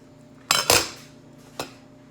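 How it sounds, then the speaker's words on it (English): A knife cuts a peanut butter and jelly sandwich into triangles, giving three short scraping clinks against a plate. The strokes are quiet and close, separated by brief pauses, with no talking. "You can cut your sandwich into triangles, like this"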